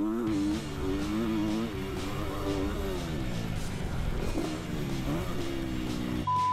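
Stock Kawasaki dirt bike on a sandy motocross track, its engine revving hard and wavering in pitch over a big jump, loud and close throughout with no talk.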